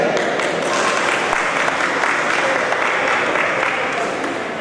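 Dense, steady applause fills the room at a tasting showcase, a crowd clapping loudly and continuously throughout.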